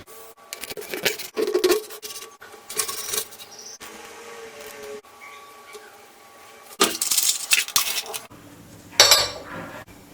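Knife slicing tomatoes and vegetables on a board for a Manipuri catfish and bamboo shoot curry: scattered bursts of scraping cuts and light clinks with quiet pauses between, close by.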